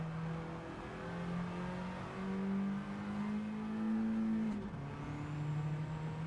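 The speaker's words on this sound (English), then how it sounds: "I'm revving it way too much." A swapped-engine car revving hard, with a loud, sustained engine drone whose pitch climbs and steps between gears, close and continuous.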